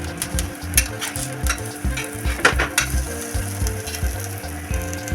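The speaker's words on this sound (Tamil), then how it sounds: "ஒரு பக்கம் வெந்ததும் திருப்பி போட்டு வேக வச்சுக்கோங்க. அடுப்பை மீடியம் ஃப்ளேமில் வச்சு வேக வச்சுக்கோங்க." Banana pancake cooking in oil or ghee in a pan over a medium flame gives a steady, close sizzle throughout, with occasional light clicks and scrapes from the pan and utensil.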